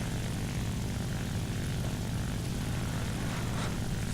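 A World War II-era propeller fighter plane engine in the War Thunder combat flight game drones steadily and loudly, a constant throbbing roar that continues without pause.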